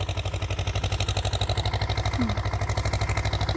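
A tractor engine putters at a steady idle close by, its regular low pulses repeating evenly throughout during maize sowing on a farm, with no one talking.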